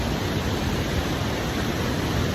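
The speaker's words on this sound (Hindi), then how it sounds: "ये जो सारे झरने हैं ये जाके नीचे चिनाब दरिया में मिल जाते हैं" Mountain waterfalls pour down toward the Chenab river along the Machail Mata Yatra route, a continuous dense rushing hiss with no breaks, steady and fairly close.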